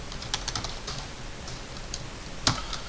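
Keys tapped on a computer keyboard while entering AutoCAD commands, a sparse run of light clicks with one sharper keystroke near the end, quiet and close with no talking.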